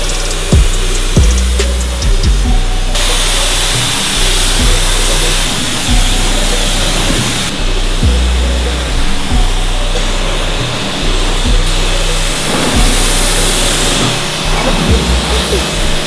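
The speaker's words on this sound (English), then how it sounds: "We're going to rinse it off with the power washer" A power washer rinses a car with a loud, steady hiss of spraying water, its intensity shifting in sections as the spray moves, with occasional low thumps and bumps.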